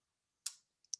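A computer mouse click and quick keyboard taps while entering a value in Scratch: one crisp click followed by a couple of soft, close keystrokes in an otherwise silent room.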